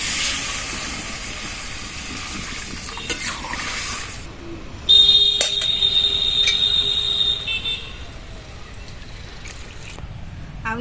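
Fish curry broth with raw mango, water just added, boils in a pot as a steady bubbling hiss. A thin high whistle-like tone sounds briefly midway.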